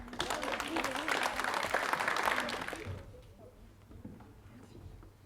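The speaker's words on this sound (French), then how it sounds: "Vous pouvez les applaudir" A crowd applauds loudly for about three seconds, then the clapping fades quickly to a quiet room murmur.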